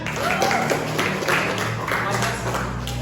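A classroom of students performs a rhythmic clapping routine during a teacher's lesson, a dense steady patter of many hands under a noisy room with faint voices.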